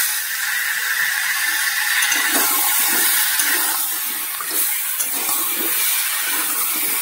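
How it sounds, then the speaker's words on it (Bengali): A tomato drops into a hot pan of frying ingredients, setting off a steady, loud broadband sizzle that hisses without a break for several seconds with no talking. "এবার একটা টমেটো দিয়ে দিচ্ছি।"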